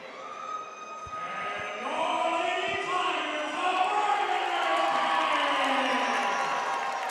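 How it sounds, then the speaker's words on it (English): Crowd noise at a high school girls' basketball game between the Lady Tigers and Owensboro Catholic, a steady din of cheering and shouting that swells and holds at full volume, with a few sharp thumps early on. "Already a great crowd here."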